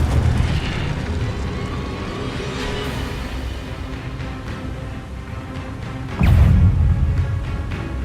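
Incendio fire spell cast in the Hogwarts Legacy video game: a sustained roaring, rumbling blast of flame that holds steady, then swells into a louder burst near the end.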